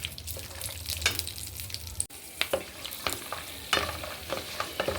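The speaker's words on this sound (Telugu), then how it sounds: "ఇలా బ్రౌన్ కలర్ వచ్చే వరకు బాగా ఫ్రై చేసుకోవాలి" Ingredients fry and sizzle in ghee in a pan for ash gourd halwa, with a spoon stirring through in repeated scraping strokes; close, steady sizzle with a brief pause midway and no talk.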